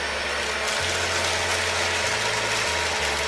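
A Philips PowerPro Aqua FC6402 cordless vacuum-mop runs continuously up close, a loud steady motor whine with a shifting low hum as it moves over a wet floor.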